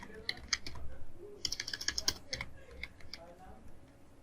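Clicky computer-keyboard typing entering a theme-settings search on an e-commerce website, a burst of quick keystrokes with faster clustered taps in the middle and lighter scattered clicks before and after, close and fairly quiet.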